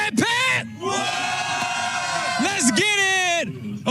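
A crowd at a Call of Duty Black Ops esports group-stage event roars and whoops in loud bursts, with shouted voices rising over the cheering.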